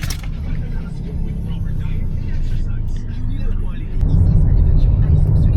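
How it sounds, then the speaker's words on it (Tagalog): Road traffic in Bulacan, a steady low rumble of cars and engines heard from inside a moving vehicle, swelling louder near the end as a heavier vehicle passes close by. "Palagi na lang traffic sa Bulacan."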